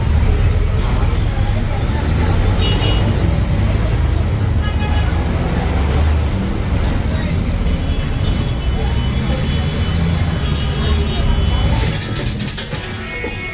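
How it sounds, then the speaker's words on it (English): Urban traffic rumble from a Peruvian city bus moving through Lima streets, a loud, steady low engine and road drone throughout with faint voices underneath. "Let me show you a Peruvian bus."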